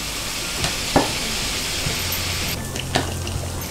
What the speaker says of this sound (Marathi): आपण तिला थोडासा तांबडा कलर येईपर्यंत तळून घेऊया।